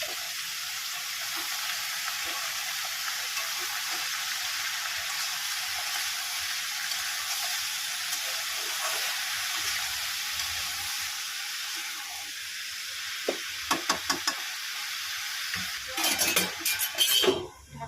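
Sliced ash gourd frying in a kadai gives a steady sizzle throughout, joined near the end by metal spatula scrapes and clanks against the pan, with no voices.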